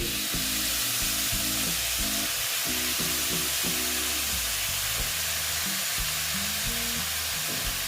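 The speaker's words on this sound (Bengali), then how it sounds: "এবার আমি এখানে দিয়ে দিচ্ছি চাল কুমড়োগুলো" Ash gourd pieces drop into spice paste frying in a pan, setting off a loud, continuous crackling sizzle that lasts the whole time, with a low hum underneath and no talking.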